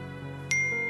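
A phone chimes once with a bright incoming-message notification ding that rings out clearly and lingers briefly over a quiet hum.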